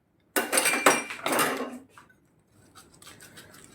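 A knife cuts a leek and goat cheese tart in its baking dish, giving close, harsh scraping and grating of the metal blade against the dish in a couple of strokes. Softer rubbing follows as it fades, with no talk.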